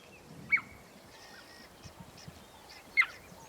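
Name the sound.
cheetah chirping call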